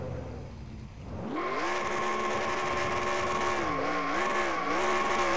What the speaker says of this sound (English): More burnouts at the start-finish line.